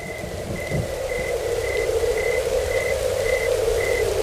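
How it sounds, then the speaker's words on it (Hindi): Light rain patters steadily in the night under a regular, repeating chirp or beep, with a low rumble early on; no one speaks. "हल्की हल्की बारिश शुरू हो गई।"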